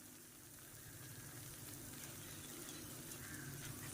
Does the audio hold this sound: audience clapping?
no